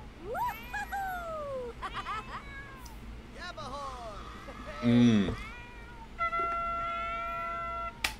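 A cat in a video game meows several times in rising and falling calls, some drawn out, heard clearly over a low background hum with brief bursts of other game sounds.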